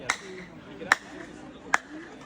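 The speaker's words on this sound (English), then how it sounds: "when you clap there, this clap sound will be modified like a bird sound" Three sharp hand claps spaced evenly apart at the Tulum Mayan ruins, each returning a brief high chirping echo that sounds like a bird call, over quiet murmuring voices.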